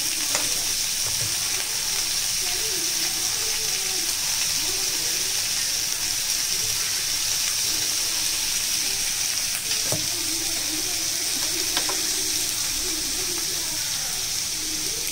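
Dried red chillies fry in hot oil in a pan for a Tamil gooseberry (nellikai) thovayal, giving a steady, close, unbroken sizzle and crackle with faint stirring scrapes.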